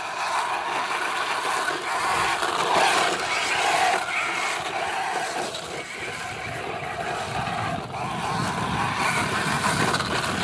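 A Traxxas Slash 4x4 RC car with Proline tires runs on a woods dirt track, its motor whining steadily with a harsh, grinding gear mesh throughout, fairly close and continuous without talk.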